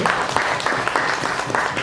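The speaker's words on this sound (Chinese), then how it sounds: "感谢主，也就得一个掌声。" A church congregation breaks into applause, a brief burst of dense, continuous clapping from many hands that stays fairly even throughout.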